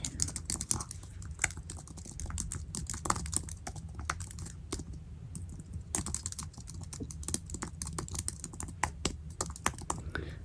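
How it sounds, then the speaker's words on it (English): Fingers tap out a quick, irregular run of clicks on a computer keyboard, close and crisp in a quiet room, pausing briefly before the typing resumes. "So I'm just going to type this in."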